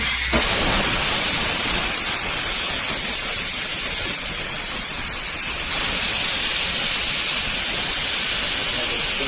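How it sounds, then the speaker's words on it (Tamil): A pressure cooker on a stove vents steam in a loud, sustained whistling hiss that runs nearly unbroken for several seconds, shifting slightly in pitch, close and alone without talk. "ஒரு விசில் வந்துருச்சு."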